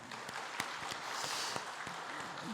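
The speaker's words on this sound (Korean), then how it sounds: "예상치 못한 은혜를 베풀으신 하나님께 영광의 박수 한번 올려드릴까요?" A church congregation applauds during a Sunday service, a faint, distant wash of many hands clapping with a few sharper nearby claps standing out, and no speech over it.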